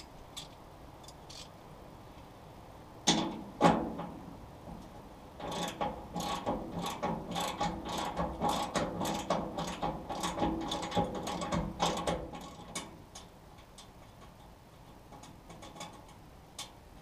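A ratchet wrench loosens the axle bolts on a grain trailer, clicking in quick repeated bursts from about 3 to 13 seconds, close by and fairly loud, with quieter stretches before and after.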